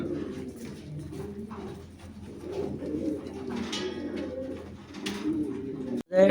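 Lahori pigeons coo steadily in a farm loft, a low continuous burbling of several birds together, with a brief louder bump near the end.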